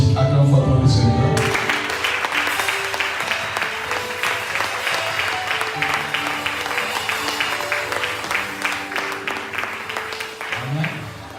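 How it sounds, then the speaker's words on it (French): A church congregation applauding and cheering for the Lord during worship, loud sustained clapping from a large crowd with voices mixed in, fading slightly toward the end. "Acclame fort pour le Seigneur"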